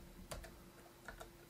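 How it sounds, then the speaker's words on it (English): A few quick keystrokes on a computer keyboard while code is entered, soft clicks at an irregular pace, quiet and close with no talking. "And we're going to type the following."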